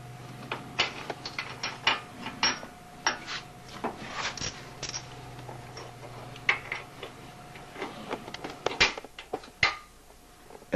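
Wrench ratcheting on a 1998 Chevy Tahoe during CV joint replacement, a run of light, irregular metallic clicks and ticks, close and fairly clear over a steady background hum.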